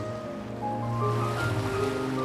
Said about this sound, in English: Twice a day, the changing tide churns the water.